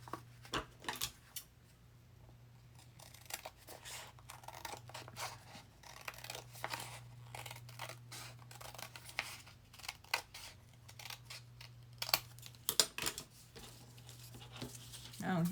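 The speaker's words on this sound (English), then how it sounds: "Fold it in half and then cut it in half." Scissors snip through a paper junk mail envelope, cutting it in half with a long series of quick, close clicks and crisp paper cuts over a steady low hum, with faint talking at times.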